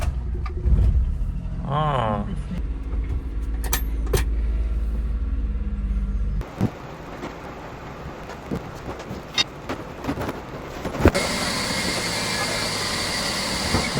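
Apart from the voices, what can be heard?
K car engine running as it is moved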